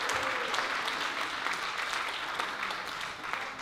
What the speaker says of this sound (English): give him a round of applause for that one